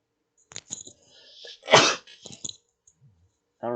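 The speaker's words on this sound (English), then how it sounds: "Excuse me, I had to sneeze real quick." A single sharp sneeze bursts out loud and close, surrounded by brief quiet clicks and breaths, then a voice starts up.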